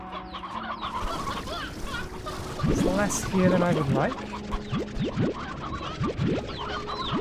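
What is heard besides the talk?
painted hens clucking in Slime Rancher 2 video game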